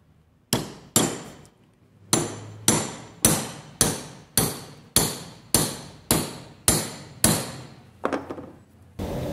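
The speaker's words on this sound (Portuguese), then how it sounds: "Introduz aqui no furo, estriado, e bata com o martelo." A hammer strikes a wooden dowel, driving it through a splining tool to cut grooves into it: about a dozen sharp, evenly spaced blows ring out close and loud, each with a short decay, and no one speaks.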